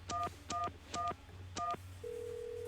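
Four short telephone keypad tones beep in an uneven rhythm from a phone in the video game There Is No Game, followed by a steady continuous tone, clear and alone.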